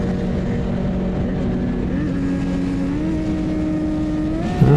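Vehicle engine at a bike night holding a steady drone, then a rising rev near the end as it downshifts, fairly close and alone without talk.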